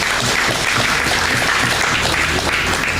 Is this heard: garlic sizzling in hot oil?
no